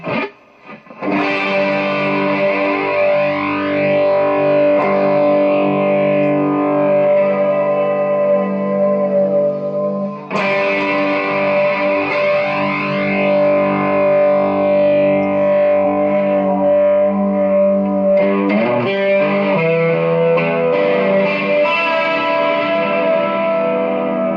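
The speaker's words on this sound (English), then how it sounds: "that sound, the kind of pitch vibrato" A sustained, distorted electric guitar chord wavers in pitch with a wobbling vibrato from a Strymon Deco pedal, swelling and restriking twice, loud and steady with no talking.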